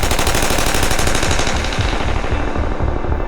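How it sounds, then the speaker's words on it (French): Thompson submachine guns empty their 100-round magazines in a relentless, loud burst of rapid automatic fire that runs without pause, with no voices present. "les mitrailleuses Thompson dévident les 100 cartouches de leur chargeur"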